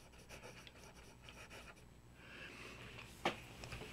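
A Santini flex-nib fountain pen scratches across paper in short, soft strokes, close and quiet, with a brief sharper scrape near the end.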